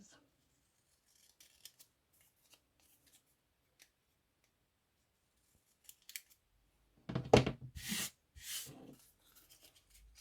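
Scissors snip through folded tea bag paper in a short burst of close, crisp cuts after long near-silence, with a few faint rustles and taps scattered around.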